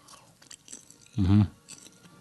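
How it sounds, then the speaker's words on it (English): Popcorn is crunched in one short, loud bite up close, standing out from a quiet background with faint talk during a podcast recording. "We got popcorn in this one again"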